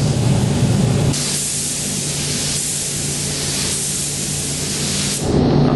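Spray gun laying paint onto a BMW 3 Series door in an autobody shop, a continuous close broadband hiss of air and atomised paint that shifts slightly in tone as the passes change.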